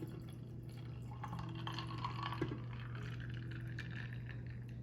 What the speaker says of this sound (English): I'm gonna pour it up in our nice cute mason jar here